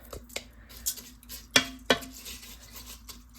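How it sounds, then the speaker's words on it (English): Stirring water and rice in a pressure cooker pot: a utensil clinks and scrapes against the pot in a few sharp knocks, close and fairly quiet, with no talk. "I'm going to give that a little stir"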